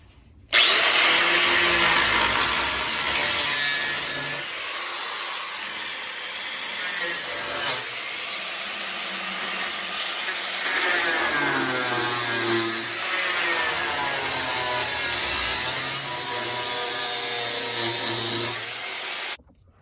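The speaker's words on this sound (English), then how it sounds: "I'm going to cut right through here, pop those out, and pull that section right out of there" A cutoff wheel grinds loudly and continuously through the metal rocker panel of a convertible car, a harsh high whine that wavers in pitch as the cut progresses, with talking faint beneath it.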